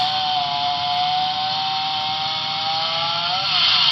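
A steady, loud chainsaw sound effect from a Broadway Limited Imports PRR K4s model locomotive drones without pause, its buzzing pitch revving slightly higher near the end.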